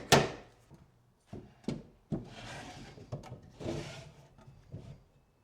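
An antique oak dresser's wooden drawers slide and close with sharp thunks, several separate shuts spaced across a quiet room, with soft wood-on-wood rubbing between them.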